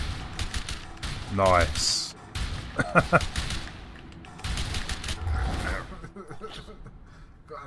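Bursts of gunfire in the video game A Way Out, a few sharp shots clustered in short volleys spread across the stretch, mixed with someone talking excitedly over the game sounds.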